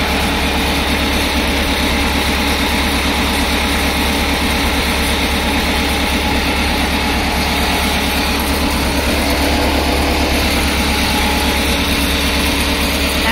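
A steady, loud engine drone with a continuous mechanical rumble, unchanging throughout, like a motor-driven pump running close by.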